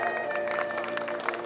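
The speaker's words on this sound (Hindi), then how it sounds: "Ladies and gentlemen, जोरदार तालियां हो जाए." Audience applause fills a fashion week grand finale, a steady wash of clapping held at moderate level for a brief moment, with background music faintly underneath.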